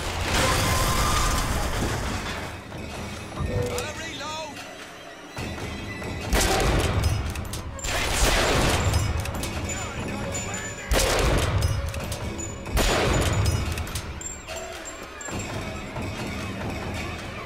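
Sustained gunfire from a mounted turret in the first-person shooter Bioshock Infinite, loud, dense and continuous, with mechanical clatter, bursts and booms layered throughout the combat.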